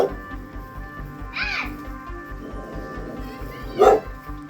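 Dogs in a mountain town in the Philippines give a couple of short barks and yips at moderate distance over a steady background hum, with no speech.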